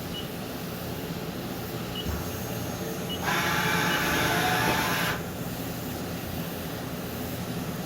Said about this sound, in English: See the machine moving into home?